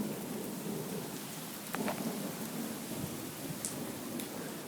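Steady rain pours through a thunderstorm, with a brief crack of thunder or hail-like impacts midway and a few sharp bright ticks; the hiss stays constant and fairly near, with no voices.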